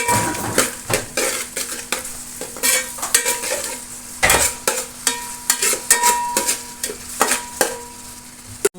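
Sliced onions frying in a pan for Dubai-style chicken curry, stirred with a utensil that scrapes and knocks the metal in repeated strokes over a faint sizzle, close up with no talking.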